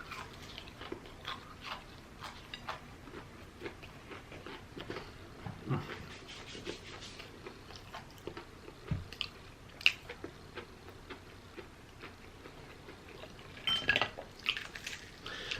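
Close chewing and biting on shrimp dipped in sauce from a TGI Fridays meal, with soft wet mouth sounds and irregular crunchy bites over about fifteen seconds, plus occasional clinks of dishes and cutlery and no talk.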